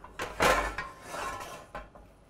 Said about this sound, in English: This lovely copper-based frying pan that my mum's got.